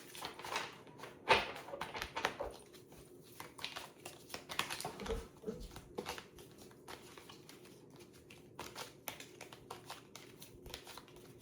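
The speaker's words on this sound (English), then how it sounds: "I'm going to shuffle and pick one card." Tarot cards being shuffled by hand, a faint, soft run of papery riffles and taps that comes and goes in quick bursts, with quieter pauses between them.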